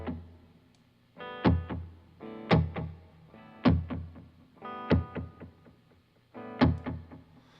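Electric guitar played through a Headrush unit with Bucket Brigade Echo Light delay and a hall reverb: loud chord hits roughly every second, each trailed by fading repeats and a lingering wash, with no talking.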